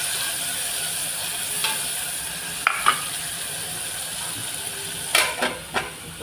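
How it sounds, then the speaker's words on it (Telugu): Tomatoes frying in oil, a soft steady sizzle broken by a few sharp clinks and scrapes of stirring, the loudest of them coming toward the end. "ఈ టమాటాలు కూడా నూనెలో బాగా వేగాలన్నమాట, మగ్గిపోవాలి."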